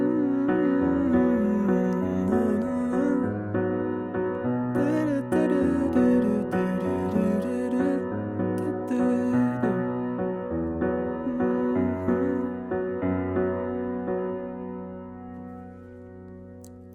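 A piano plays the verse of a song on its own, notes and chords ringing and decaying in a steady rhythm.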